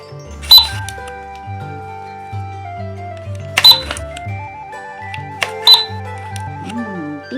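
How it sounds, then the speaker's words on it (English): A Barbie toy cash register's portable card reader gives three separate electronic beeps, each followed by a short jingle of synthetic tones, with brief voice-like chirps from the toy in between. "Okay, let's try if this portable card reader works."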